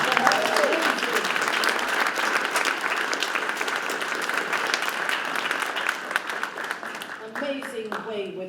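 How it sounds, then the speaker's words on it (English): A ceremony audience applauds steadily and loudly throughout, a dense wash of clapping with a few voices emerging near the end as it begins to fade. "Why don't we give a round of applause for her?"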